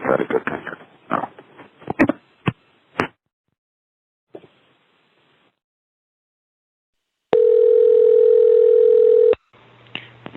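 Steady, loud dial tone from a New York City street payphone holds for about two seconds, following scattered handset clicks and faint street noise, with a brief further sound after.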